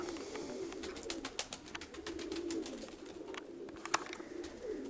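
Pigeons coo close by in a low, repeating rhythm, mixed with brief flutters and clicks as the birds fly. Faint outdoor noise sits underneath, with no talking.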